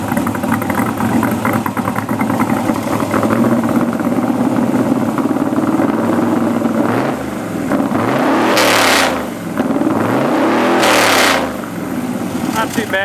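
An LS7 V8 in an S10 truck with a 3-inch exhaust rumbles loud and deep, with a couple of sharp revs rising and falling near the end.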